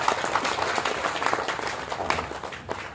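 Audience applause at a Tamil movie audio release function, a dense, steady patter of many hands clapping throughout, moderately loud in a large hall.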